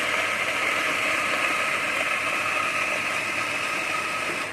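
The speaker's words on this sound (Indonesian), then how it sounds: "Pertama kita akan giling dulu si coffee bean menggunakan espresso blender." An espresso grinder grinds coffee beans in a steady, buzzing, rattling whir that holds evenly for over four seconds at close range before cutting off at the end.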